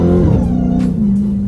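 A 2020 Dodge Charger Hellcat Widebody engine revs close by in a single short, loud burst, its deep growl rising and then holding steady.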